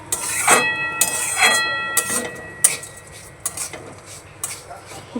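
Vermicelli fried in ghee over a medium flame for a Jorda Shemai dessert, stirred with a utensil that clinks and scrapes against the pan in repeated strokes over a steady close sizzle.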